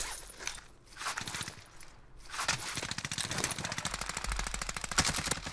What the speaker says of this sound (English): Oh, I'm getting shot from top, dude